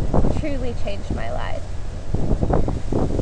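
Strong gusts of wind buffet the microphone outdoors, rumbling steadily under a woman's speech for the whole stretch.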